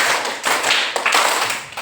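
Children clap their hands together in a classroom counting game, loud close bursts of clapping in short grouped rhythmic waves with small gaps between them.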